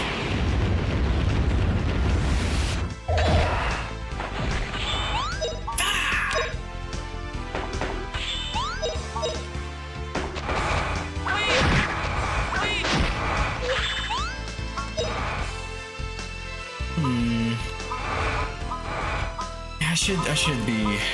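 Spell explosions in Grandia HD Remaster boom and crash again and again over game music, with sharp bursts and whooshing effects landing through the battle while a player talks over them.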